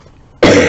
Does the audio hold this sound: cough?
yes